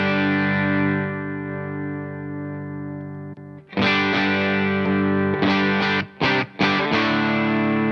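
Electric guitar through a Beetronics Larva Morphing Phaser pedal set to a gritty, distorted unison tone: a held chord rings alone, then fresh strums and choppy stabs follow, with no talking.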